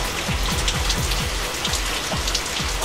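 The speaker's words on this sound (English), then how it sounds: "just a lot of rain, but that's okay, because" Heavy rain from Hurricane Irma in Orlando pours steadily and loudly, drumming on a surface with a constant hiss.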